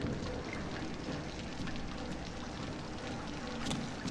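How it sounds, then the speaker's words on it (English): Water drips and patters indoors in the horror game Outlast Whistleblower, a steady faint rain-like spatter with no dry weather outside and no talking. "How's this place leaking? It's not even raining."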